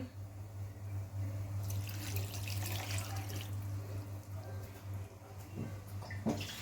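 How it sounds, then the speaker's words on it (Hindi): Water pours steadily into a cooking pot of fresh fenugreek leaves for aloo methi, a continuous splashing stream over a low kitchen hum with no talking. "उसके बाद मैं पानी ऐड करूंगी।"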